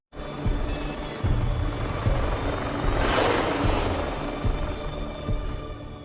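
Camera drone flying in the film Songbird, a steady rotor-like whir with a throbbing hum that swells slightly toward the middle, continuous and fairly close, no talking.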